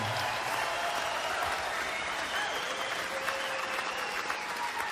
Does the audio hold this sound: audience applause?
yes